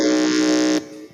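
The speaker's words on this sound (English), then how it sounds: "Let us hear the buzzer from Pentecost Preparatory." A quiz-competition contestant buzzer sounds once, a loud steady electronic tone lasting under a second before cutting off sharply, with no talk over it.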